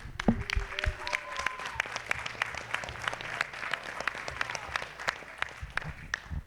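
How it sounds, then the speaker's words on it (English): An audience at a pinball expo awards ceremony claps continuously in a sustained round of applause, moderately loud, with faint voices mixed in. "I want everybody to give a round of applause for Sterling."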